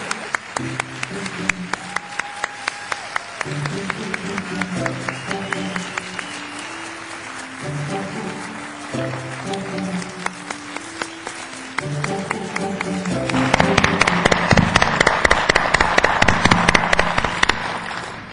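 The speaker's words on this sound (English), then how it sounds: "give him the roaring round of applause he" Keynote audience at an education technology conference breaks into sustained applause as music plays, the clapping swelling louder and denser toward the end.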